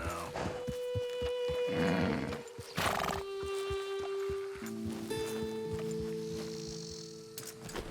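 A horse in Red Dead Redemption 2 whinnies loudly, then hooves clop in a steady rhythm with a couple of snorts, close and clear over tonal game music.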